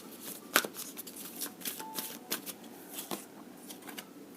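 Tarot cards being shuffled at a reading, a quick, close riffle of card flicks and soft slides with a sharper snap early on, continuing in light bursts with no talking.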